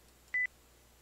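A single short two-tone electronic beep from a smartphone as an incoming call is answered, clear and close against a quiet background with no talk.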